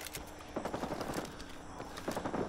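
Gunfire in a Vietnam War shooting video game comes as a few rapid bursts of shots, quiet and clipped, with brief pauses between the volleys.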